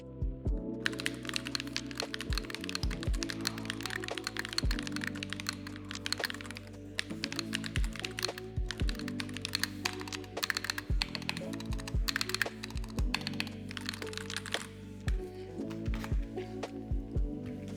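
Steady, fast typing on a MelGeek MADE68 Pro magnetic-switch keyboard, with dense clacky keystrokes and occasional heavier thocks from larger keys, close and continuous throughout.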